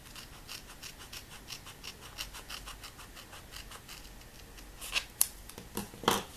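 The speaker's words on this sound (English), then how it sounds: "I'm going to just cut this in half from the paper." Scissors snipping through paper strips at a planner craft table, faint soft rasping and rubbing for several seconds, then a few sharper close cuts near the end, with no talking.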